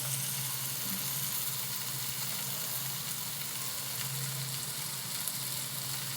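Food sizzles steadily in a hot pan in a home kitchen, a continuous close frying hiss with faint stirring, no talk.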